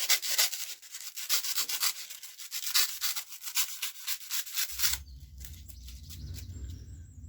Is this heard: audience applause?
no